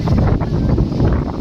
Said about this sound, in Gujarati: પવન એટલો બહુ છે ને કે અવાજ આવે કે ન આવે એટલો બહુ પવન છે